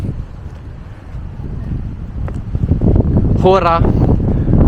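Wind on Mykonos buffets the microphone with a steady gusty roar that builds over the clip, and a brief voice cuts through near the end.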